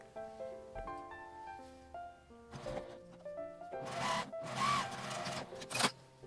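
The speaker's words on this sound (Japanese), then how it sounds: "ミシンで縫います。" A sewing machine stitches fabric beside a zipper while making a small folding wallet, running in short, rough mechanical bursts over soft background music.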